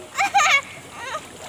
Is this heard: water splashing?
yes